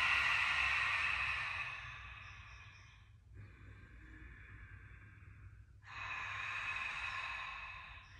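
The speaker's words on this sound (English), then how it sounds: "And exhale." Slow, breathy exhales and inhales during a chest-expansion breathing exercise, a long airy rush fading out, a quieter pause, then another strong breath, close to the microphone with no speech.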